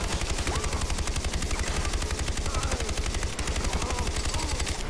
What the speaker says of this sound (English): Wow, this gun is awesome.